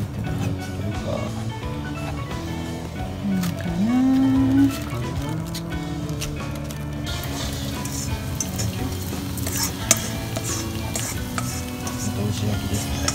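Food sizzles and fries steadily in a pan, with a bright spitting hiss throughout and a faint clatter of stirring, while people chat nearby and a brief hum rises partway through.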